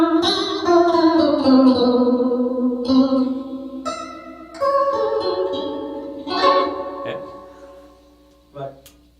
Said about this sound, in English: If I crank the chorus way up like this